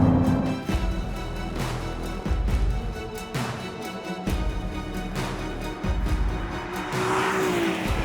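A Ferrari 296 GTB's turbocharged V6 engine revving hard through several gear changes, loud and close, the pitch climbing and dropping repeatedly with brief gaps between pulls.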